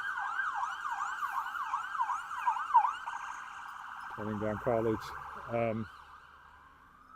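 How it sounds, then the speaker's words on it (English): An ambulance siren wails through a cold downtown street in winter, a steady rising-and-falling tone that holds loud and close before fading, with a vehicle passing and a short burst of talk partway through. "It's like an ambulance going by."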